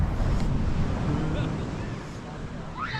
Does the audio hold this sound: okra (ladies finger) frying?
no